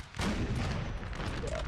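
Artillery fire in the Napoleon Total War video game online battle, a sudden loud booming blast that swells and rolls on as a dense rumble of cannon and musket volleys for over a second.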